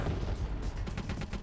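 Grenades going off in the video game Metal Gear Solid The Twin Snakes: a steady, dense roar of overlapping blasts and rumble holds the whole time, with sharper bursts poking through near the end.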